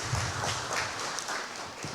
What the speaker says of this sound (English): big applause for Philipp